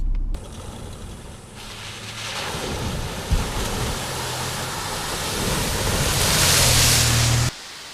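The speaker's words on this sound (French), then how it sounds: "C'est une petite rivière." A small river in Galvans Gorge flows with a steady, broad rushing wash that swells slightly toward the end, with no voices.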